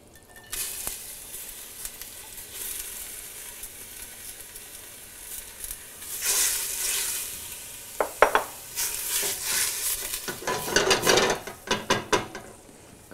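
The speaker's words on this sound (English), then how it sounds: "And we want to sweat the onions." Chopped onions sweating gently in extra virgin olive oil over a medium flame for risotto, a soft continuous sizzle with scattered clicks and the clatter of stirring growing busier toward the end.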